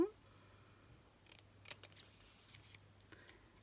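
Scissors snip through card, with a few quick crisp cuts clustered together after a quiet start. The cuts are faint and close, with no speech over them.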